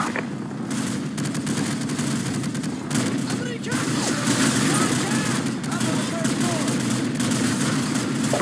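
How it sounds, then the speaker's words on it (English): Machine gun fire in a Navy SEAL commando video game, rapid bursts of continuous shooting in a dense battle din with military voices calling out over it. "Jackson, use their machine gun."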